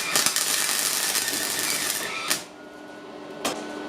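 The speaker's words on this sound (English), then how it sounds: "I'm gonna place my first tack weld right in this corner." Tack welding on a Subaru rear wheel arch gives a loud crackling buzz lasting about two seconds, followed by two short sharp bursts.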